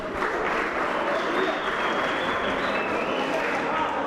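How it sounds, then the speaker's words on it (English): A crowd at a boxing tournament applauds loudly and steadily, with dense clapping and a few cheers that fill the whole moment without letup. "let's give these guys a big round of applause"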